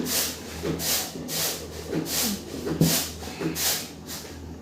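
Hot water poured into a pan of cooking cow brain masala, giving rhythmic bursts of hissing and sizzling steam that rise and fall in regular pulses, close and fairly loud, with no talking.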